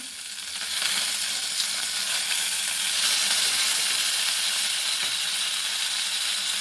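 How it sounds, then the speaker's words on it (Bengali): Black cumin seeds and green chillies hitting hot frying oil, producing a continuous loud sizzling hiss that swells after the first second and holds steady, close-up and without any voices. "ওই তেলে আমি একটু কালো জিরে আর কাঁচা লঙ্কা ফোড়ন দিয়ে দিলাম।"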